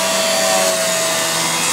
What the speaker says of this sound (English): Smoking vacuum.